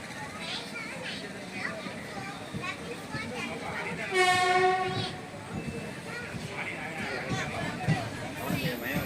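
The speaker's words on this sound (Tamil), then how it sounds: "நம்ம வண்டி இப்போ கொடரோடு ஸ்டேஷன் ரீச் ஆயிடுச்சுங்க." A passenger train pulls into Kodai Road station in Tamil Nadu, its rumble steady beneath a long horn blast near the middle, with people talking and station noise around it.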